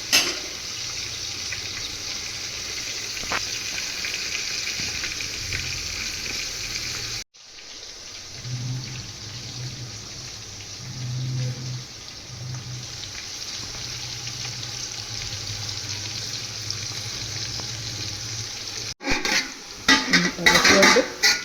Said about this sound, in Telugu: ఇట్లా ఎర్రగా ఎగిరింది అన్నమాట ఉల్లిపాయలు